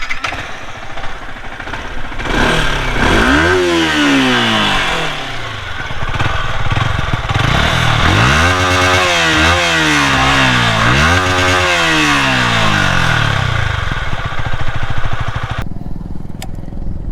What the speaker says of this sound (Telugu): ఒకసారి ఎగ్జాస్ట్ సౌండ్ అయితే వినండి